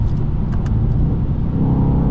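Car with deleted mufflers, a loud deep engine drone heard up close from inside the cabin, steady low rumble with no talking over it.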